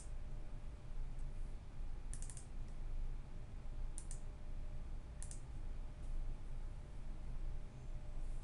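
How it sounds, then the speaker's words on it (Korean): Computer keyboard keystrokes save a file with Ctrl S while Android app code is edited, a few sharp isolated clicks spaced over a quiet steady room hum. "자, 컨트롤 S 누른 다음에 다시 한번 실행을 해보겠습니다."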